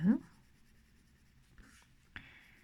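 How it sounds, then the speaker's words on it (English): A graphite pencil scratches and strokes across paper, faint and close, in a few short scrapes and taps separated by quiet pauses. "I'm going to be quite strong with adding graphite around that inner edge"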